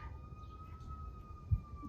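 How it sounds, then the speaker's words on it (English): A faint, distant emergency vehicle siren near an urban hospital holds a steady wailing tone over a low background rumble, with one brief thump near the end. "I'm near a hospital, an urban hospital, so we do get lots of sirens"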